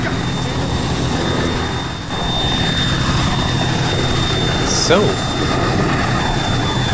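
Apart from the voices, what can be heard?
helicopter engine winding down in Arma 3 video game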